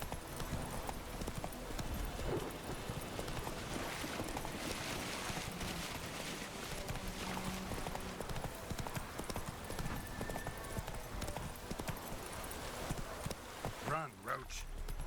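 The horse Roach gallops in The Witcher 3, a steady rapid clip-clop of hooves running without pause, with a brief whinny near the end and someone talking over it.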